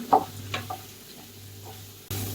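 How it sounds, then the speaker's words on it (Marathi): Carrot pieces hit hot oil with turmeric in a pan and are stirred, giving a brief clatter at first, then a soft, close sizzle. "उरलेली सर्व गाजर यामध्ये मी टाकून देत आहे परतून घेऊ"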